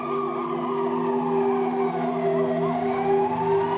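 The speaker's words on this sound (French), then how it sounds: "Au loin, on entend les sirènes des premières ambulances qui arrivent." Wailing sirens rise and fall continuously over a steady low engine drone, several tones overlapping at moderate volume.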